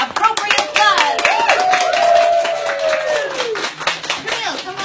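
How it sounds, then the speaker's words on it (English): Applause from a studio audience welcoming a guest from the Art Gallery of Nova Scotia: dense, continuous clapping that carries loudly through the whole stretch, with whoops and voices rising over it. "let's all give appropriate applause"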